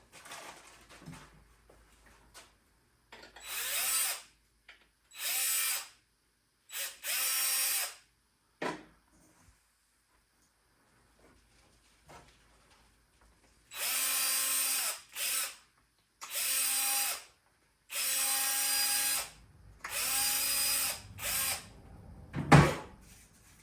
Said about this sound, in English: pre-drill the back of these